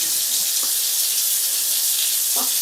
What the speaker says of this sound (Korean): 양수기에 물을 틀었거든요. 한번 물 나오는지 확인해 볼게요.